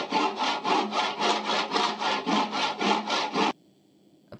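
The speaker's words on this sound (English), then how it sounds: "We'll use the saw to cut the wood." A handsaw cuts wood in the video game Amanda the Adventurer 2, a dozen quick rhythmic rasping strokes at close range that stop abruptly, followed by near silence and a faint click.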